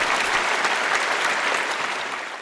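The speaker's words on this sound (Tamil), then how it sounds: "ஆக்சுவலா நம்ம நல்ல கைத்தட்டலாம்." An audience at a Tamil discussion program on sexual harassment applauds, a dense steady wash of many hands clapping that holds at even loudness and eases slightly at the end.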